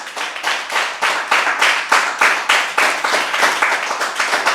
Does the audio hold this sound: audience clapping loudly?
yes